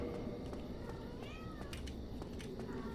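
A cat lets out a brief meow partway through, fairly faint against a steady background hiss and murmur.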